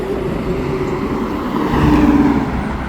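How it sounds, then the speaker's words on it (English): A Ford Mustang with a V6 engine accelerates in traffic, its steady broadband engine and road roar swelling louder partway through, with no voices. "See this Mustang owner will send it."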